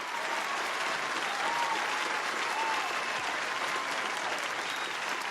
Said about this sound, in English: Shout out and round of applause.